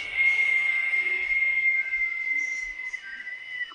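A slow exhale through the mouth during a restorative yoga breathing exercise, producing a steady, thin whistling tone that holds evenly for several seconds at close range with no talking.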